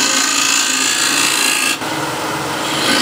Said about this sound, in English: I'm using this little smaller curve or flatter curve of the scraper.